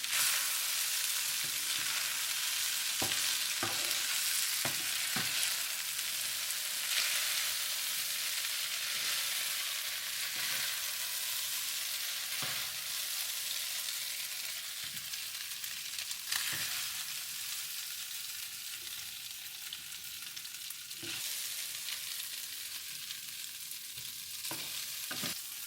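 Pork and celery stir-frying in a pan, a continuous loud sizzle with occasional scraping stirs and clacks, steady throughout with no talking.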